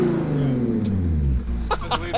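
A Dodge Hellcat engine revs through a Valvetronic catback exhaust with a deep, rising rumble, close by, easing off toward the end.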